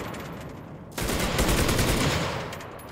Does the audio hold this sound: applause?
no